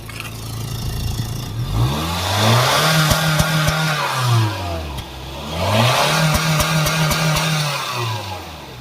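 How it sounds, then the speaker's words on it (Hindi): A Honda City's 1.5-litre i-VTEC petrol engine is revved twice in clear, loud sweeps, each climbing from idle to a high pitch and dropping back down, with a steady idle between them. "तो इसका एक बार इंजन साउंड सुनते हैं।"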